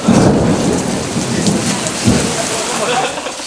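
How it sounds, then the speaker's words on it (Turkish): Heavy rain pours in a loud, dense wash, with thunder rumbling low during a storm and a faint voice briefly audible underneath. "Çok sağlam yağmur geliyor."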